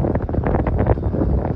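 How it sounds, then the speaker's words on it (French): Wind by the sea in Casablanca, a gusty rumbling buffet against the microphone, steady and fairly loud with no voices. "dès qu'on s'approche de la mer, on sent tout de suite un peu plus de vent, un peu plus d'humidité"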